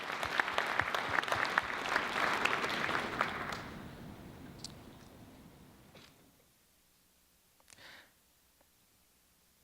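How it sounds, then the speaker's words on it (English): An audience at a health policy keynote applauds loudly for a few seconds, then the clapping thins and fades away to near silence with a few stray sounds. "Will you just, again, join me in a round of applause, thanking them for this great impact?"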